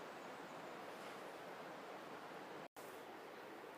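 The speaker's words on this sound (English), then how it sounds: "You can hear the falls down the bottom there." Distant waterfall at Crammel Linn, a steady broadband rush of falling water heard from down a steep river valley, continuous and even with a brief dropout near the end.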